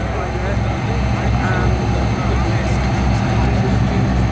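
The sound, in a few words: Fairey Swordfish biplane flying past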